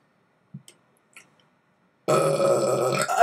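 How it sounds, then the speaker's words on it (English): After a few faint clicks and ticks, a long, loud, rumbling burp erupts close to the listener and runs to the end. "I can't stop burping because I had a burger and mac and cheese"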